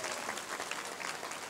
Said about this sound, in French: applaudissez très fort, applaudissez très fort